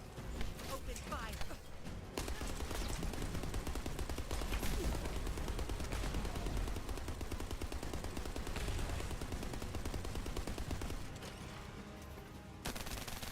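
Continuous bursts of rapid automatic gunfire rattle from weapons in The First Descendant video game during hard-mode combat, dense and loud for most of the stretch before easing slightly near the end.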